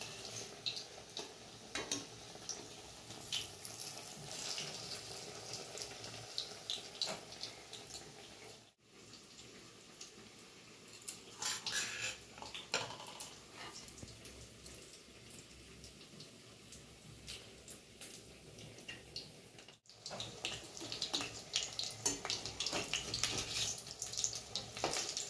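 Potato and bread snacks fry in hot oil with a steady, hissing crackle that rises and falls. Faint splashy pops and kitchen handling sounds sit under it, with no voices.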